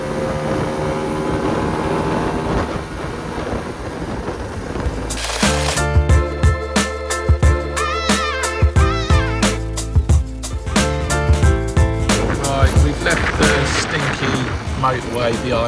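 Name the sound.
abandoned Lambretta scooter engine running at full revs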